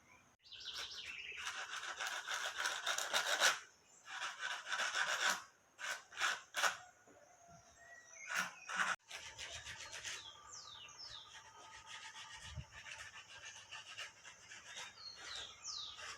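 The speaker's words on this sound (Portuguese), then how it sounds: "A gente vai lixar isso tudo e vamos ver o que acontece." Sandpaper worked by hand over a thin layer of cured resin produces close, rhythmic rasping strokes in bursts, then fainter, steadier rubbing.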